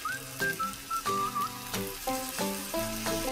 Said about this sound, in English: Now just very gently, I'm going to flip this over so that it can cook on the other side as well.